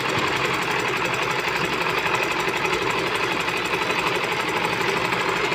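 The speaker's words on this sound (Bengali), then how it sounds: "নিচে সেলাই করে ফেলতেছে সোজা করে হাফ ইঞ্চি সেলাই হবে" A sewing machine runs steadily, stitching a straight half-inch seam on a blouse, its continuous close mechanical whir and rapid needle rattle holding an even level throughout without pause.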